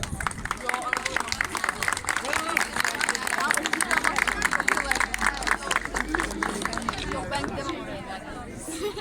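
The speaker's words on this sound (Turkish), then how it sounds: "Tekrar birinci kocaman bir alkış istiyorum." A crowd claps at a traditional Turkish archery group elimination contest in Kütahya, a rapid scattered patter of applause lasting several seconds, with people talking over it.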